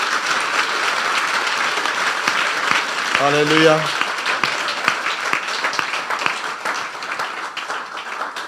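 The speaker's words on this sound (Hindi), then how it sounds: "ताली बजा दें यीशु के जलाल से" A church congregation claps during a Hindi-language sermon, a dense broadband patter of hands sustained throughout, with a brief spoken exclamation in the middle.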